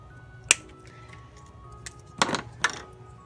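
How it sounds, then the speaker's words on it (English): A wire connector being snipped during engine bay wire tucking: three sharp, close clicks, one isolated and two in quick succession a moment later, over a quiet background. "now we're gonna cut the connector right here."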